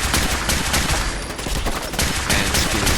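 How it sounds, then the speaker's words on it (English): Rapid bursts of radium rifle fire in Fallout 4, loud and dense, with overlapping shots crackling continuously for the whole stretch. "I'm gonna pepper his chest with radium rifle bullets"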